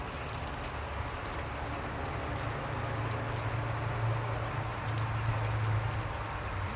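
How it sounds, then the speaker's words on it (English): Steady rain falls outdoors over a freshly cut lawn, a dense even hiss with a faint low hum underneath and no voices. "Isn't this rain so beautiful?"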